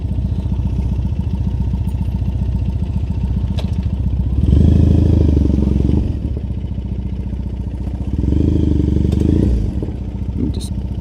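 A loud motorcycle rumbles along a Tokyo street with a steady low engine drone, swelling twice as the throttle opens, close and continuous with light clatter and no voices.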